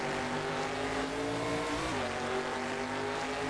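A V8 TransAm race car roars in the Assetto Corsa racing game, a loud, continuous engine drone that holds steady, then shifts pitch briefly near the middle, with no talk.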